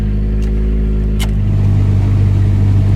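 A Toyota Tercel 4WD wagon engine runs loudly and close by, its steady rumble deepening and rising a little as it revs up.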